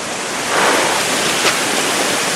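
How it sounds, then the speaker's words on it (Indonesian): Clear, fast-flowing river heard as a loud, full rushing wash, swelling slightly midway and continuing without pause, with no voices. "Sungainya sudah dekat, lihat dari sini kelihatan sungainya mengalir deras, airnya jernih sekali."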